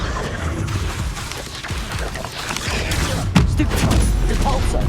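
Spell blasts and impacts from duelling in the video game Hogwarts Legacy, a busy run of bursts and crashes with a heavy thud near the end, all mixed under continuous game din and shouted spell names.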